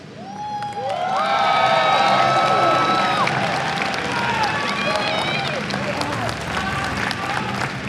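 A loud esports crowd at IEM New York cheers and claps after a StarCraft 2 semifinal, with whoops, whistles and shouting voices rising over a sustained roar.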